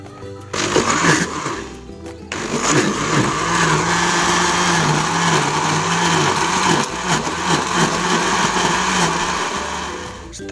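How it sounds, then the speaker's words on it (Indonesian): An electric blender grinds green soursop leaves with a liter of water, a loud, steady motor whine that starts after a brief stutter and runs continuously at close range. "kemudian di blender hingga halus"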